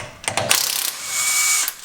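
A ratchet wrench clicks rapidly while loosening car wheel nuts, a few sharp bursts of ratcheting followed by a smoother mechanical whir, close and fairly loud with no speech.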